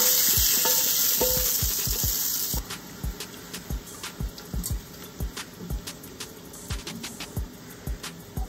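A tadka tempering for yellow moong dal gives a loud hiss at first, then settles into softer sizzling broken by repeated stirring clinks and scrapes in the pan.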